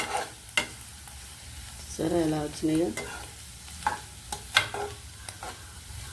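Potatoes frying in a pan on a stove, sizzling and crackling steadily with scattered sharp stirring clicks and scrapes, and a voice briefly speaking over the cooking partway through.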